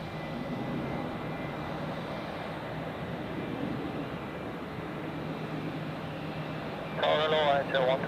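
A Boeing 757 at Zurich Airport gives a steady broadband engine roar that holds throughout, with a brief tonal burst near the end and a voice talking over it.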